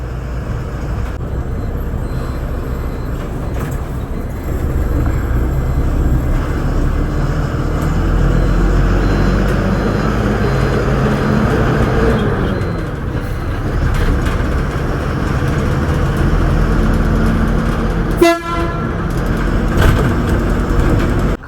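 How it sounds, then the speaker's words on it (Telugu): A bus rolls into Kavali bus stand, heard from inside as a steady engine rumble and road drone, with a sharp hiss of air brakes near the end. "సో మన బస్సు వచ్చేసి ఇప్పుడు కావలి బస్ స్టాండ్ లోపలికి అయితే వెళ్తుంది"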